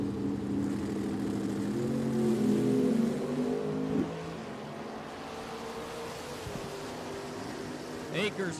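A 1988 Camaro launches and pulls away down a drag strip at Richmond Dragway, its engine roar loud at first then fading off into the distance, with an announcer's voice over the track noise.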